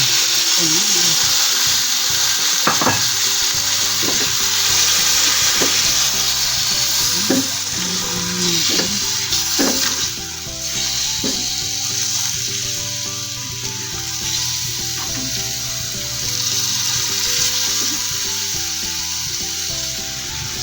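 Marinated pork for Filipino pork igado sizzles loudly and steadily in a hot pan, close up, with occasional scraping and stirring clatter and a voice talking faintly at times.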